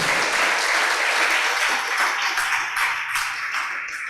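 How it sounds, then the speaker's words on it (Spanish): A church congregation applauds during a Spanish-language sermon, dense steady clapping from many hands, fairly loud and sustained throughout. "Denle ese aplauso a Jesucristo, que Él se lo merece, hermano."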